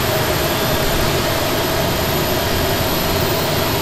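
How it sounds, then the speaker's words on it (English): A jet engine on a CRJ regional jet in a flight simulator runs with a loud, steady broadband roar and a faint whine, unchanging and continuous with no talking. "gonna go ahead and unlock the second engine as well."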